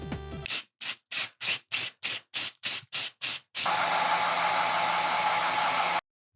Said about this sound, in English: I think I just gotta spray them and see what happens.